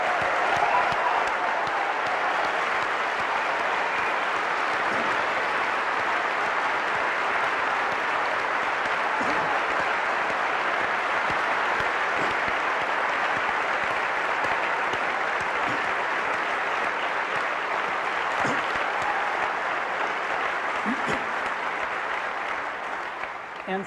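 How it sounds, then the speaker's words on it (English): A large Macworld keynote audience at MWSF 2003 applauds for a team of engineers in sustained, dense clapping that holds steady and loud throughout before easing slightly at the end. "I want to give them a round of applause."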